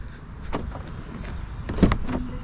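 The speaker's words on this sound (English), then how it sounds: "Door handles pop out" A 2022 Mercedes-Benz EQS 580's door handles pop out with a few short, close mechanical clicks and a soft motorized whir, one sharper clunk near the end.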